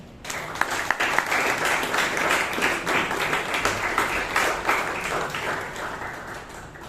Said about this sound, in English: give a big round of applause to our first speaker